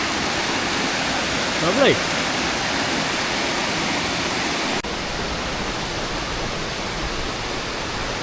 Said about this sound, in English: starting to get a few nice cascades now